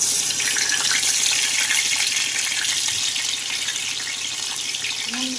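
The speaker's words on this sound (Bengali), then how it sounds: "তেলটা গরম হয়ে গেছে, এবার আমি আলুগুলো ছিঁড়ে দেবো" Potatoes fry in hot oil for a Bengali chicken kosha, giving a loud, even hiss and crackle of sizzling that runs throughout with a short low clatter near the end.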